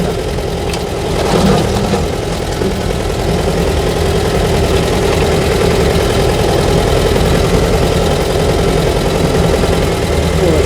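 A T-40AM tractor engine runs steadily at a loud, close idle with a heavy low drone and a slight flutter, alone for nearly eleven seconds.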